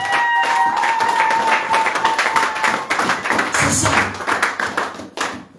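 A church congregation at a missionary gathering in Nkoteng, Cameroon, applauds Jesus with dense, steady clapping that fills the whole stretch. A sustained tone sits underneath early on, and a brief voice speaks near the end.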